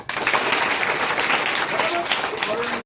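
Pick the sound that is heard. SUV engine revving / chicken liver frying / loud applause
loud applause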